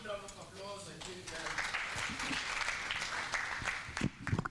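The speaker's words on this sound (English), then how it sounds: "Let's give them a good round of applause." Audience applause at a boxing convention, a dense run of clapping that swells after the first second and carries on steadily, with a voice talking briefly at the start.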